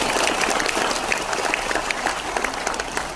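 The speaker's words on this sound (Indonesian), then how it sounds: "Tepuk tangan untuk kita." An audience applauds at a university rector's address and academic oration at UIN Alauddin Makassar, a loud, dense burst of many hands clapping throughout, with a few sharper individual claps standing out near the end.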